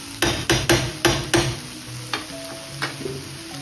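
Vegetables with corn cooking in a pan for barley porridge, with a series of loud clattering stirs and scrapes near the start, then quieter sizzling and a few light knocks as the pan sits.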